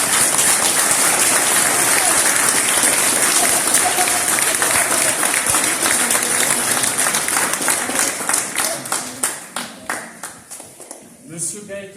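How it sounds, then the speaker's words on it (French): Audience at a bust unveiling ceremony breaking into sustained applause, a thick roar of clapping that thins toward the end into individual, separated claps fading out, with some voices in the crowd. "Et je vous invite à l'applaudir."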